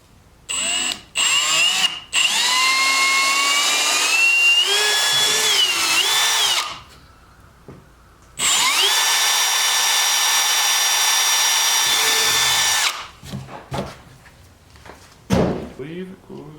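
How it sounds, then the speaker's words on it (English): Power drill boring mounting holes for a Can-Am 26-gallon rear ATV cargo box, two long whining runs with pitch shifts as the bit loads, separated by a pause, with clunks and brief talk around them. "They give you a couple holes to drill,"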